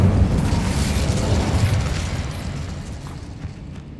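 Incendio fire spell cast in Hogwarts Legacy bursts out as a heavy, rumbling blast that starts loud and close, then rolls and slowly fades over a few seconds.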